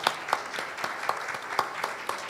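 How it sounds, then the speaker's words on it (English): An audience at a panel event on stage gives a light, fairly quiet round of applause welcoming a panelist, with individual claps distinct and spaced, heard from some distance. "A warm round of applause."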